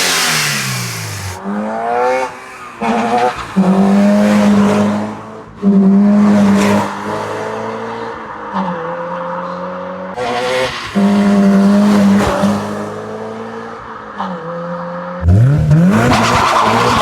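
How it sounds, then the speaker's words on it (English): A Toyota GR86 fitted with an aftermarket intake revs hard from inside the cabin, several loud rising and falling sweeps with sharp throttle blips and short pauses between them, close and alone without talk. "Gonna give you a couple revs inside here so you can hear the intake"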